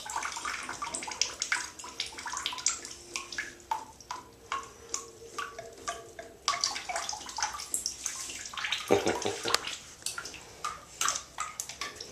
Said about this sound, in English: Might be adding more water.